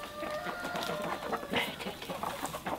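Chickens clucking nearby at a village home, a busy mix of short, overlapping clucks and calls at moderate volume over quiet background noise.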